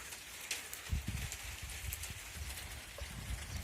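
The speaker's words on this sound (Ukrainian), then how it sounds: "дощик іде" Light rain falls quietly, a soft steady patter with a few scattered louder drops and thumps nearby, with no talking.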